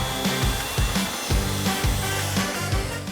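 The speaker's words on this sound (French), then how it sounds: "Pour couper nos plinthes, on va utiliser une scie à onglet." A miter saw cuts a 45-degree angle through a strip of baseboard for laminate flooring, a loud continuous whine with a grinding, rasping texture close by and no voices.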